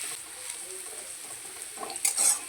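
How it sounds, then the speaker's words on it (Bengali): Onions frying in a pan, a soft, quiet sizzle with a brief burst of stirring near the end. "পেঁয়াজটা যতক্ষণ না হালকা লালচে রং ধরছে ততক্ষণ পেঁয়াজটা ভেজে নিতে হবে।"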